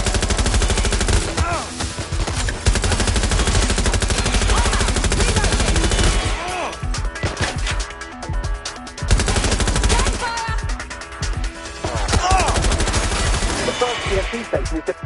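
Sustained, loud automatic gunfire in Watch Dogs Legion rattles in long continuous bursts with brief lulls, dense and close throughout.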